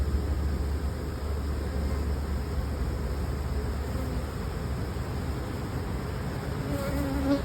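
Honeybees trapped in a mite wash jar give a steady, faint buzzing drone that holds evenly throughout, with a slight rise near the end.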